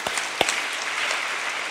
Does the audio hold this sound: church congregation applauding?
yes